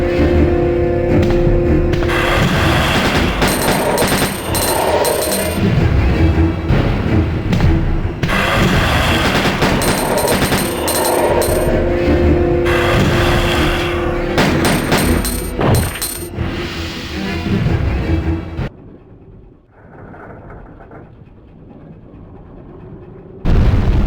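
Loud, repeated gunshots and heavy booming blasts from Resident Evil 2 ring out in a fight against William, firing in steady volleys for nearly twenty seconds before dropping to near silence.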